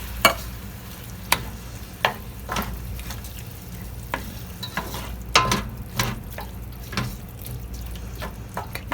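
Diced tomatoes from a can being stirred into cooked, translucent onions in a pan, with a soft continuous sizzle and scattered utensil scrapes and taps, close and moderate in volume, no talking.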